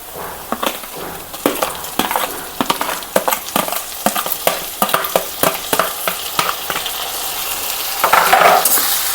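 Tomatoes tipped into sizzling onions in a frying pan for a shrimp and okra curry, heard as close, rhythmic scraping stirs over a steady frying hiss that grows louder toward the end.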